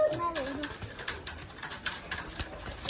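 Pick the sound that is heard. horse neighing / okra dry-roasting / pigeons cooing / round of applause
pigeons cooing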